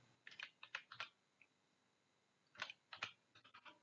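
Quiet, close keyboard typing while a C program is entered on a computer, a run of rapid key clicks, a short pause, then another quick burst of keystrokes.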